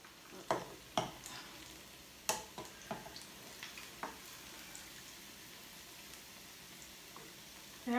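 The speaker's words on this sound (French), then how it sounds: "dans une casserole, on met de l'huile et puis on fait frire les bananes" Plantain slices fry in oil in a saucepan, a soft steady sizzle punctuated by several sharp pops and clicks of stirring in the first half, then quieter bubbling.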